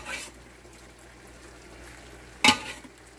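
Green mung beans stirred in a pan, a soft background sizzle with a scrape at the start and one sharp clatter of the utensil against the pan near the end.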